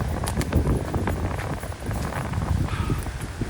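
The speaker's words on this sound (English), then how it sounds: "Wind is blowing out here today, makes it a little bit more chilly" Wind blows outdoors along a hiking trail in Loyalsock State Forest near Haystack Falls, a steady, gusty low rumble buffeting close up with faint rustling and footstep-like crunches mixed in; no one speaks.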